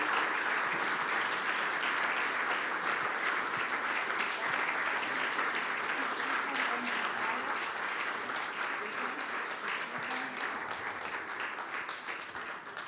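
An audience at a business innovation award ceremony applauds innovators in a continuous, dense round of clapping that stays strong throughout and eases slightly near the end.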